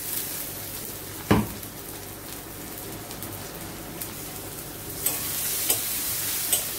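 Onions fry in a pan with a steady low sizzle, while a utensil stirs them with occasional scraping knocks against the pan. The sounds are close and there is no talking.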